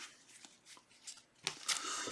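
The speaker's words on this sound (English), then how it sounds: "Shuffle 3 cards." Playing cards shuffled during a superhero-themed tabletop card game, two short riffling bursts close up, the louder one near the end, with no talk.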